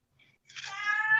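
A male cat lets out a loud, drawn-out meow that rises and holds, close and clear, preceded by a faint short chirp and otherwise quiet surroundings.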